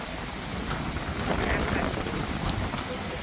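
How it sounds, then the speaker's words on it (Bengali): Rain setting in with gusting wind, a dense steady hiss of falling drops and airy rushing that swells slightly midway and holds at a constant level throughout. "চালু হয়ে গেছে বৃষ্টি।"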